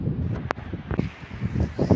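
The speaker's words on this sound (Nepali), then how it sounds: "त्यस्तो हावा चलेको यहाँ हेर्नु साथी हो" Strong wind buffets the microphone outdoors in Nepal, gusting in rough low rumbles with sudden thumps and rustling that rise and fall over two seconds.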